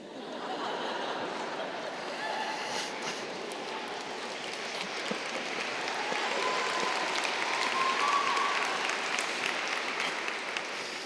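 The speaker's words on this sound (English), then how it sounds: "That's a weird applause line." An audience at a college graduation recognition ceremony applauds in a large hall, producing a sustained, dense wash of clapping with a few chuckles throughout.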